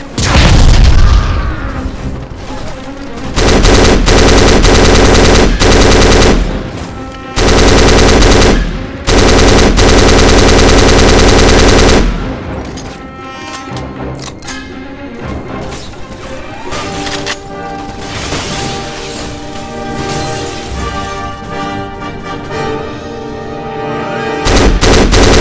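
Machine gun fire in the shooter game Black, loud and sustained in long roaring bursts with heavy booms, separated by brief gaps, then giving way to quieter rumbling combat and scattered shots.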